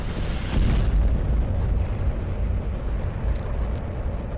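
A deep, rumbling boom swells and rolls on, a heavy low explosion that lingers as a dull roar without any voices.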